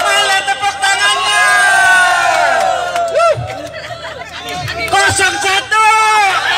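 A lively crowd at a dance event in Bandung cheers and shouts in a loud, continuous roar, with an announcer's voice urging them on over the noise.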